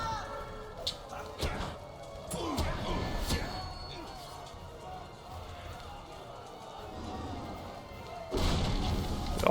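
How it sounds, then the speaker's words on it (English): Explosions and heavy impacts in the Lord of the Rings Online battle for Helm's Deep, scattered thuds and crashes over a busy game soundscape, with a louder burst near the end and voices talking throughout. "All these explosions are awesome,"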